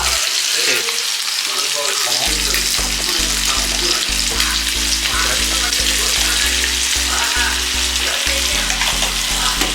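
Liver frying in a pan with masala, a loud, continuous close sizzle with steady crackling, joined by a regular rhythmic humming tone pulsing underneath for most of the stretch.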